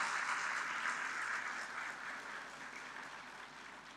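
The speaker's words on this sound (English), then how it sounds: "Please give them a big round of applause." Audience applause at a tourism industry conference, a steady wash of many hands clapping at moderate distance that eases slightly over four seconds.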